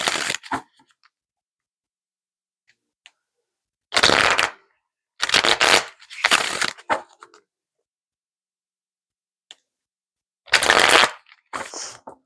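Isis Oracle cards being shuffled by hand in several short crisp bursts of riffling, close and clear, separated by quiet pauses.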